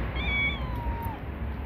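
A cat meows once in a long, drawn-out cry whose pitch slides downward, heard close and clear over a low background rumble.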